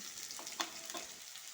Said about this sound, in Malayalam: എണ്ണ ചൂടായിട്ടുണ്ട് ഇതിലേക്ക് നുറുക്കി വെച്ചിരിക്കുന്ന വെണ്ടയ്ക്ക ഇട്ട് കൊടുക്കാം